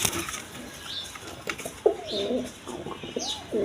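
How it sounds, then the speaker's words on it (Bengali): Pair of Giribaz high-flyer pigeons, a big-sized male and female, giving soft low cooing phrases at close range, a few separate rounded calls against faint background noise. "এখানে এক পেয়ার হাই ফিলিং গিরিবাস কবুতর আছে"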